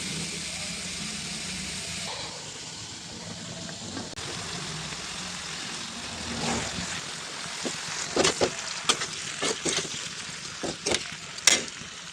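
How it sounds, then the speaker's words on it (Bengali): Fish fries in a pan in a home kitchen with a quiet, continuous sizzle and a low background hum. Sharp clicks and scrapes of stirring or handling grow more frequent toward the end. "এখানে বাবার জন্য মাছ ফ্রাই করা হচ্ছে"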